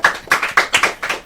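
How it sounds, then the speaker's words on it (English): A few people clap for a judge at a girls' secondary school oratory competition grand finale, five or six close, sharp hand claps in a steady rhythm. "A round of applause for him, please."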